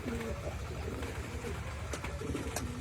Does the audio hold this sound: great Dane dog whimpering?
no